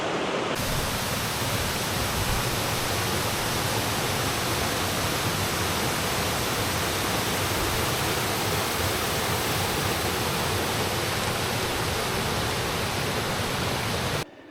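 The River Swale in the Yorkshire Dales rushes past in a loud, steady, broadband wash of flowing water, close and continuous with no voices, cutting off abruptly at the very end.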